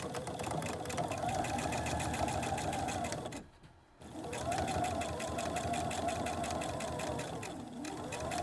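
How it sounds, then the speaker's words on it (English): A sewing machine top stitches a fabric face mask in a rapid, steady mechanical whir close by, pausing briefly before running on again. "Now I'm just going to top stitch this so that it could hold its shape flatter"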